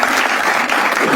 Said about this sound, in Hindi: एक बार जोरदार तालियां हो जाए श्रेया प्रियम के जबरदस्त खेलने के लिए।